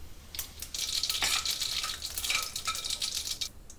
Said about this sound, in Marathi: मोहरी व जिरे तडतडल्यावर